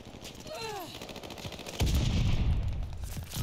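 Gunfire in a video game, a string of sharp close shots in quick bursts that grow into denser, louder firing in the second half.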